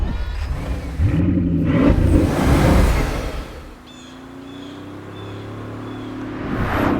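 A Bugatti Chiron Super Sport with a 1,578 hp quad-turbo W16 accelerates hard on a road drive, its engine rising loud and close before settling into a steadier cruising drone, with a brief swell at the end.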